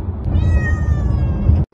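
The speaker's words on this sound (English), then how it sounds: "Millie just kept meowing because she noticed that Chase and Sky weren't in the car" A cat meows loudly and close inside a car on the way to the vet. One long, drawn-out cry lasts over a second and a half, then cuts off abruptly.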